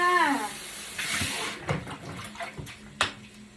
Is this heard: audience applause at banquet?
no